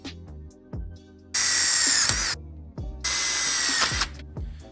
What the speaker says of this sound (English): we're going to go ahead and drill a hole through the fork